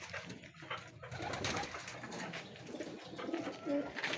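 Soft pigeon cooing from white pigeons against a busy, noisy background of other birds and rustling, with the low coos rising briefly near the end.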